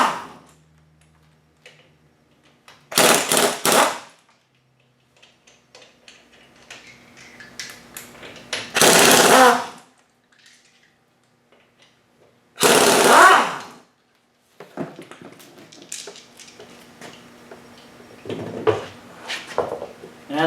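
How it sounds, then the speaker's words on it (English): A pneumatic air wrench removes the wheel lug nuts on a Polaris RZR in a workshop, firing three loud, sharp rattling bursts of about a second each, separated by quieter stretches with faint handling noises. "it's nice to have an air wrench to get these off"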